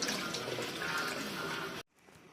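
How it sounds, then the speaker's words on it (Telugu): Water pours steadily into a pot of fish pulusu, a tamarind fish curry, with a close, continuous splashing gush that stops abruptly near the end. "వాటర్ పోసేసుకుందాం"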